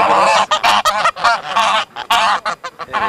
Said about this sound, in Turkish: gördüğünüz gibi kazlar da var. Sesleri de çıkıyor.